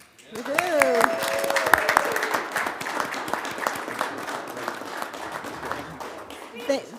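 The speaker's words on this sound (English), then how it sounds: "a round of applause for Jordan." A crowd at a city council meeting bursts into steady applause and cheering that carries on for several seconds, loud and close, with a few voices calling out over it.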